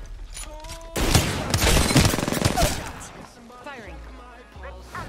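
A loud rapid burst of automatic gunfire in the game Apex Legends, dense and close for about two seconds, then quieter mechanical clatter and brief game voice sounds.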